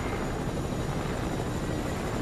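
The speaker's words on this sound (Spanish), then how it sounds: "me voy a intentar subir en el helicóptero, Juan" Helicopter in the Fortnite video game gives off a steady, even rotor and engine drone that fills the whole stretch without pause, and no one speaks over it.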